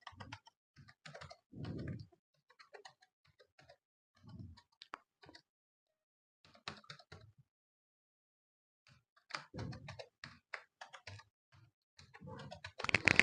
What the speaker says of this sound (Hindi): उसके बाद में फिर दोबारा हम ईमेल आईडी को एंटर करेंगे